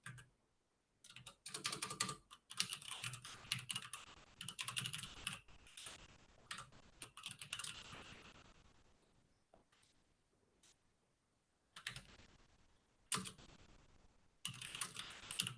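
Rapid bursts of clacking on a computer keyboard, close and fairly quiet, come in clusters separated by short pauses during an online release meeting.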